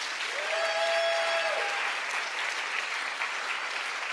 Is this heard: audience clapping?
yes